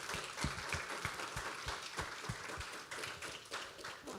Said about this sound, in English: so an applause for all of them